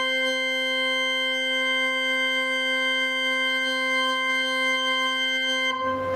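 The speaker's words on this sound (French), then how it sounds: "C'est le son d'orgue qu'on connaît en règle générale." Pipe organ plein jeu mixture stop sounding during tuning, a single bright steady chord held loud for several seconds before cutting off abruptly.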